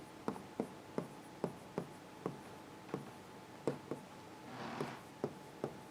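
Chalk or marker writing on a board during a Java lecture on arrays, heard as a steady series of faint, evenly spaced taps and short strokes in a quiet room, with one longer scratching stroke near the end.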